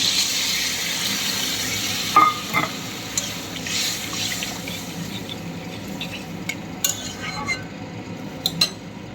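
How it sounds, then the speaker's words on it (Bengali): Water splashes into a pan of frying spiced potato curry, a steady hiss with a few clinks of a spoon against the pan, close and moderately loud, with no speech. "একটু ভাজা ভাজা হয়ে এলে এবার দিয়ে দেবো জল।"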